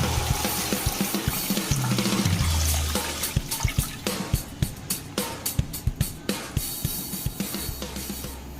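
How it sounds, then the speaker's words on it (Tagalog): Water is poured into a pressure cooker holding a pig's head for a tomato-based Filipino stew, a sloshing gush followed by splashing and repeated knocking clatters. "Lagyan na natin ng tubig mga solid."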